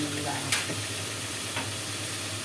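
Seasoned food sautéing in a pan, a soft steady sizzle with a couple of brief scrapes of stirring, close and moderately quiet.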